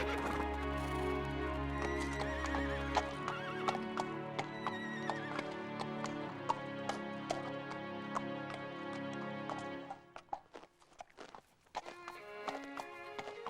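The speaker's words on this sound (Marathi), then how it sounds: "मूर्ख घोडे." Horses in a stable whinny and neigh over steady clip-clopping hooves, set against prominent orchestral music in an animated film, the hoofbeats becoming clearer as the music thins near the end.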